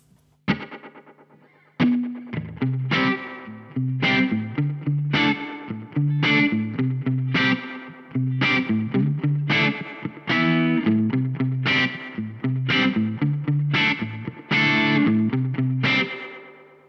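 An electric guitar riff with a short, snappy slapback delay echo from IK Multimedia T-RackS Space Delay trailing each note, played in a steady groove after a brief opening chord.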